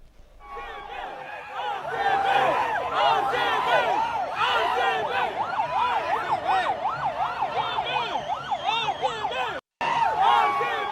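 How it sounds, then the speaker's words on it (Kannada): An ambulance siren wails continuously and loudly at close range while the ambulance is stuck in heavy traffic with buses near Chinnaswamy Stadium in Bengaluru, its rising and falling tones cycling steadily with a brief dropout near the end. "10 ನಿಮಿಷ ಸೈರನ್ ಮೊಳಗ್ತಾ ಇದೆ ಆಂಬ್ಯುಲೆನ್ಸ್ದು."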